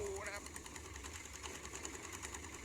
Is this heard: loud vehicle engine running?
yes